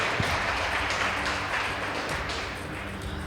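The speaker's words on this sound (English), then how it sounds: "Please give them a round of applause" An audience at a school debate competition claps for the winning team from a boys' high school, a sustained wash of applause that holds steady and fades slightly toward the end.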